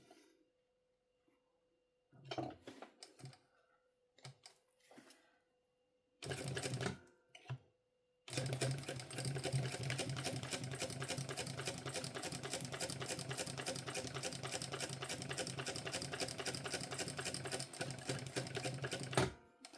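A sewing machine stitches a folded slip pocket seam for a mini backpack: a few short, stop-start bursts of running give way to a long, steady, rapid mechanical chatter, close and clear, with no voices.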